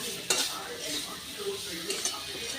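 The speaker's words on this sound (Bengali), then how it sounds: "এবার সব মশলাগুলোর সাথে আমি বেগুনগুলো খুব ভালো করে ভেজে নেব।" Eggplant frying with chili powder and Kashmiri chili powder in a pan, a close, steady sizzle with spoon stirring and occasional metallic clinks against the pan.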